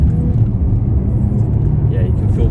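A supercharged 2018 Jaguar XJL 3.0 V6 Portfolio accelerates hard with the rear wheels spinning, giving a steady, dense low engine roar heard from inside the cabin.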